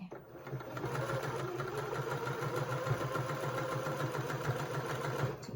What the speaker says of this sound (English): Lower the needle into the machine, a few back stitches, and hopefully you can see what I'm doing there is I am just sewing right along the edge here.